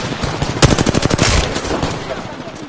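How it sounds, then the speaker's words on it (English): Rapid automatic gunfire from the video game Apex Legends, a loud burst of closely spaced shots around the middle, then trailing off into scattered quieter shots. "I'm getting shot at."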